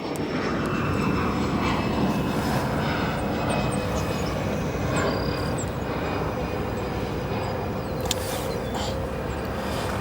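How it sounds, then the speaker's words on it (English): A CRJ-200 regional jet departs O'Hare Airport, its engines making a steady loud roar that holds throughout, with faint higher whines above the broad rumble. "CRJ-200 departing."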